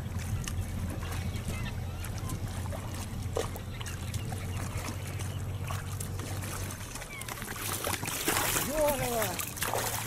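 A boat on a walrus hunt moves through water with trickling and splashing along the hull, over a low engine-like drone and wind; a few sharper splashes near the end.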